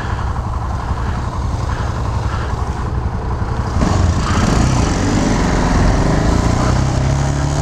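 A small motorcycle engine runs loudly close by with a buzzing, rattling drone, then rises in pitch and intensity partway through as it accelerates, with wind noise throughout.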